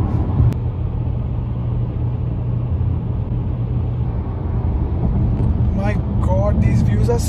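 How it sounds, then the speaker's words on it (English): Car driving along a road through the Scottish Highlands near the Glenfinnan Viaduct in the rain, a steady low engine and road rumble heard from inside throughout, with a voice speaking briefly near the end. "I'm gonna quickly go back to my car and start driving up north."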